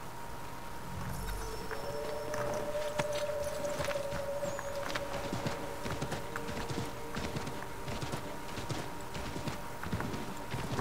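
Horse hooves clip-clop in a steady walking rhythm in the video game Assassin's Creed III, close and moderately loud, with faint background ambience and no speech.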